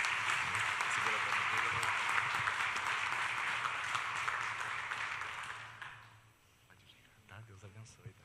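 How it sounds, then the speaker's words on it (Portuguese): A church congregation claps for Maria Letícia in dense, sustained applause that fills the room for about six seconds, then fades to a few scattered claps and quiet murmuring. "Uma salva de palmas a Maria Letícia"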